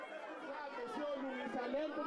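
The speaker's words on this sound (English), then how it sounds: "the crowd calling for the release of their neighbors" A crowd of protesters calls out and chants in a steady, overlapping clamour of many voices, moderately distant and continuous.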